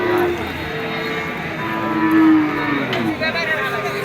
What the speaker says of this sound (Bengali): অনেক সুন্দর একটা গরু দেখতে পাচ্ছি শাহিয়াল